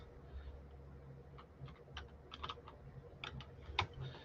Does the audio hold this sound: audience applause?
no